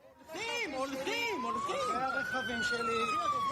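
A wailing fire truck siren rises and falls steadily, loud and close, after a missile strike fire, while a voice talks over it.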